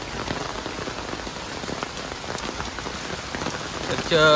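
Heavy rain pours steadily onto surfaces near Charni Road, Mumbai, a dense continuous hiss with no voices.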